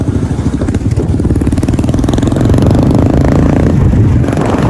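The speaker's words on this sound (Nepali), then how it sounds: "यो बाइकलाई यही भाइको जङ्गलको बिचमा अहिले पड्काएको" Motorcycle engine revving hard in a jungle, a loud, steady rumbling drone that swells louder midway with rough clattering pulses, close to the listener with no talk.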